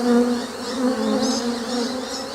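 Worker bees flying up from shaken hive frames in a spring bee yard, a close, continuous buzzing drone with wavering pitch as many wings whir together, no voices.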